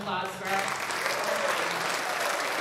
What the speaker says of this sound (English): One last round of applause for